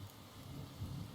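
Steady rain falls in a relaxing virtual-world ASMR scene, a soft continuous hiss with low rumbling, heard alone and fairly faint.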